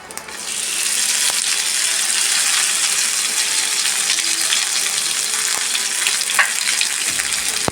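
Curry leaves hit hot coconut oil already crackling with mustard seeds and set off a loud, dense, hissing sizzle that holds steady, with a few sharper crackles on top. No one speaks.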